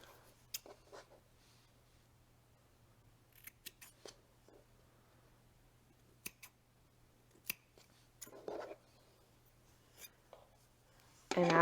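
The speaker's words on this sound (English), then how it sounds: "And I think I am going to trim these." Scissors snip yarn while a yarn doll is trimmed, giving scattered short quiet clicks and cuts spread across a near, quiet tabletop scene, with a louder rustle at the very end.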